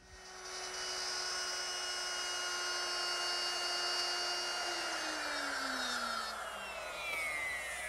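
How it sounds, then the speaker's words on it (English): A router fitted with a 3/8 inch straight bit cuts wood in a workshop, a loud, sustained high-pitched whine that shifts pitch as the bit bears into the cut, with no talking. "So I'm going to start with a 3/8 inch straight bit set up in my router."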